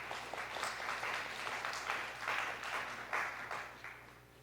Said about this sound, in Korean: 우리 서로 격려의 박수 한번 할까요?